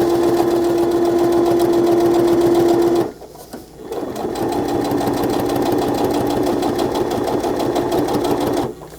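A sewing machine runs loud and steady, double stitching along the top of a pocket. One long run stops briefly, then a second sustained run follows, close up and alone.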